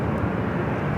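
A jet airliner rolls for takeoff on runway 24 left at LAX, a steady broadband engine roar holding constant and fairly loud throughout.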